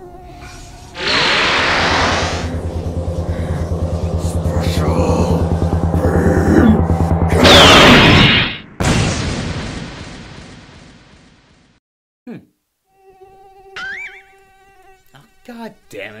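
A Dragon Ball special beam cannon blast effect roars in a loud sustained buzzing surge for several seconds, cuts off abruptly, then gives way to a fading rumble and scattered small sounds and talk.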